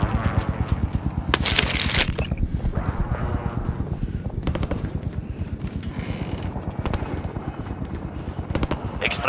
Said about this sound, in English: Extraction helo is ready for pickup.